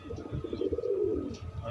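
Pigeons coo nearby in a soft, low, rolling burble that swells in the middle and then trails off, with only faint background noise.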